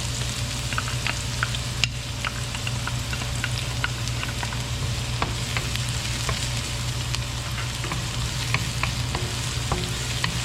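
Onion and garlic sauté in a pan for a Filipino okra and ground meat dish, giving a continuous close sizzle with scattered crackles and light stirring scrapes, no voices.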